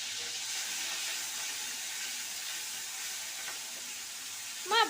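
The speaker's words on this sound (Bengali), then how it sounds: "কালো জিরে ফোড়নে দিলাম, চিংড়ি মাছটা ভাজবো।" Shrimp frying in oil seasoned with black cumin seeds for a loti chingri dish, giving a steady, close hiss and sizzle throughout with a brief clatter of stirring near the end.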